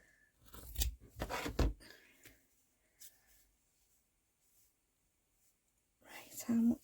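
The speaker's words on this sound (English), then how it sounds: "I need to cut a little bit more off the top." Scissors snip through card for a handmade Christmas journal cover, a few crisp close cuts in quick succession followed by a pause and another burst of cutting, with quiet talk.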